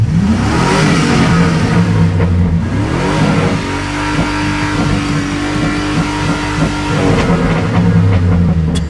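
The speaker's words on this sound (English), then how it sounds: "lifter tick started to go away, but it's coming back." Loud nearby revving from a Chevy 5.3 V8 with lifter tick and 16k miles, climbing, holding a steady high pitch for several seconds, then dropping back and surging again.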